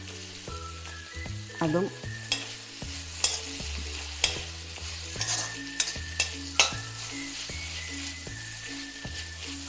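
Grated coconut mixture with curry leaves being sautéed in a pan for a Kerala mushroom curry, a soft steady sizzle broken by scraping stirs and occasional spoon knocks, with a low droning hum and a brief spoken word.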